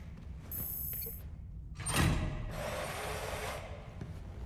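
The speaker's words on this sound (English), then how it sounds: "I am a laser drill, serial number KD847 prototype." A prototype laser drill in Gotham Knights bores through an armored panel, a loud burst of harsh, hissing mechanical grinding that swells near the middle and carries on as a steady buzzing whine.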